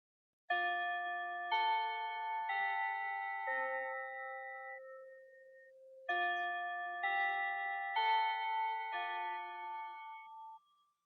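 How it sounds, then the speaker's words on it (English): A chiming bell melody marks the close of a podcast episode, ringing a descending run of clear tones, pausing, then repeating the phrase, bright and alone over silence. "That bell means we reached the end of today's episode."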